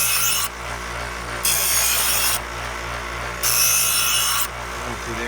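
A kitchen knife is drawn across a sharpener in three long, even rasping strokes, each about a second, close up and alone over a low background hum.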